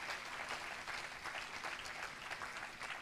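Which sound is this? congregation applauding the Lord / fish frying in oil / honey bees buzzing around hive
congregation applauding the Lord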